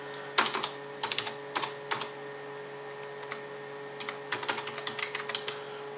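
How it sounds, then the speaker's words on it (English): A password is typed on a computer keyboard in short clustered bursts of crisp key clicks with pauses between, close and fairly quiet with a steady electronic hum underneath. "I'm gonna type in my password."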